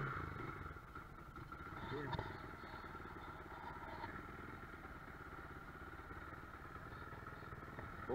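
A Mondial Z-One S motorcycle engine runs at a steady idle close by, with a rough mid-range rumble throughout while people talk over it.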